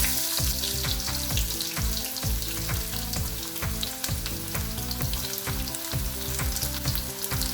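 Sliced garlic roasting in hot oil with mustard and fenugreek seeds crackles and sizzles loudly up close, with sharp spattering pops over a continuous frying hiss.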